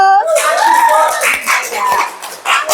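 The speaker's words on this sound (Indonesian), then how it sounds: "Tepuk tangan dulu." A burst of lively hand clapping from a class of children, mixed with excited young voices cheering and calling out over it, at the end of a classroom lesson.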